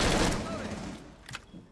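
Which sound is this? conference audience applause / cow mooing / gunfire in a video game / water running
gunfire in a video game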